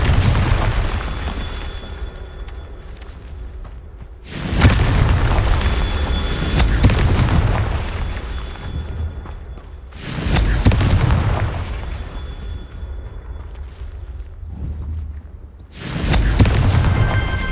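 Confringo fire spell explosions in the video game Hogwarts Legacy, a series of loud booming blasts, about four heavy bursts with rumbling tails filling the whole clip.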